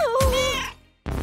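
A cat gives a single clear, drawn-out meow close by, rising then falling, followed by a brief pause and the start of another sound.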